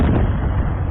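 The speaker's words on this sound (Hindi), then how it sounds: "चाय बनाने के दौरान ही अचानक बिल्डिंग के पीछे एक जोरदार विस्फोट हुआ" A loud explosion goes off behind a building in war footage from Ukraine, heard as a heavy, continuous low rumble filling the whole second, with no talk.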